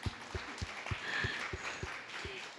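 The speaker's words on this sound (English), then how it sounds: "big round of applause to Katarina." Quiet, sparse clapping from a small event audience at a women's beauty and wellness gathering, made of evenly spaced claps with a soft background murmur.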